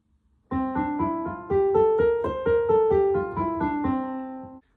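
A bright plucked string instrument plays a Mixolydian scale stepwise up and back down, evenly paced notes, clear and close with no talking.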